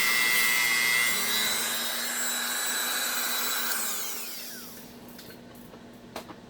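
A cloth buffing wheel spins against a slot car body in a steady whirring drone that winds down near the end, leaving a few faint taps.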